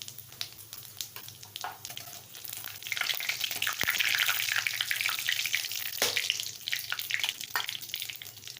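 Whole cumin, dried red chilli and a bay leaf fry in hot oil for a cabbage dish, crackling softly at first, then swelling into a busy, close sizzle with sharp pops. No one speaks.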